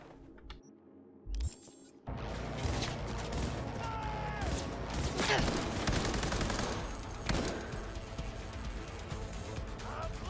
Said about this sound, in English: Change the katana to... assault rifle. Power assault rifle.